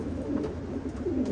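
Young racing pigeons coo close by in a loft, low soft rolling calls repeating over a gentle background, with no talking.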